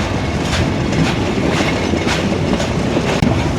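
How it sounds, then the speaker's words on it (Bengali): Kapotaksha Express passenger train running on rails just past Jessore Junction, a loud steady rumble of wheels with rhythmic clickety-clack over rail joints, carriage rattle throughout and a brief squeal near the end. "যশোর জংশন পেরিয়ে ছোট্ট একটা কাজ নিয়েছে আমাদের কপোতাক্ষ এক্সপ্রেস ট্রেন"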